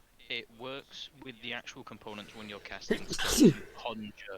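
A single sharp sneeze bursts out near the end, right over a person talking during a tabletop role-playing game session, with the speech continuing around it.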